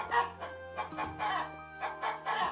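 A hen clucks in a run of short, repeated bursts near a nest, close by and fairly quiet, with a faint steady hum in the background.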